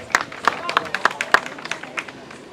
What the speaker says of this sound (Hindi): मोहम्मद उसामा भाई के लिए तालियां हो जाए भाई